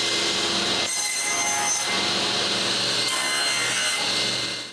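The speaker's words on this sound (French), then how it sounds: "Je commence par couper un morceau d'érable." Steady back-and-forth strokes of a hand saw cutting through maple, loud and close, with brief pauses between runs of rasping strokes.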